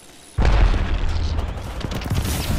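Grenade blast in the video game Apex Legends: one sudden deep boom that hits hard and then rumbles on with a dense, rolling tail, fairly loud and with no voices over it.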